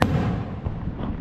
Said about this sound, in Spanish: Le dan durísimo a los fuegos artificiales.